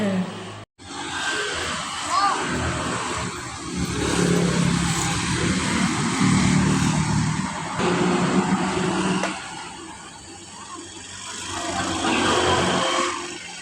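A broad, roaring aircraft engine rumbles overhead for the whole stretch, swelling and easing, with faint voices mixed into the noise.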